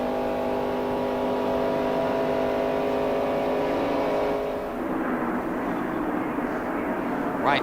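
NASCAR stock cars racing past at the 1993 Daytona 500, a loud steady engine roar that shifts pitch as the pack sweeps by, with race commentary audible underneath.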